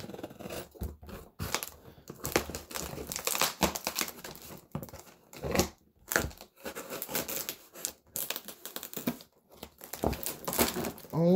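Heavily taped mail package being torn and pulled open, with crinkling plastic, ripping tape and scrunching cardboard in irregular close bursts, a voice talking briefly at moments.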